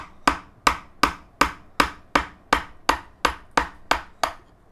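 A hammer strikes a gouge chisel eleven times at an even, steady pace while it carves a small wooden bowl, each blow a crisp, close knock with a short ring, and no talking.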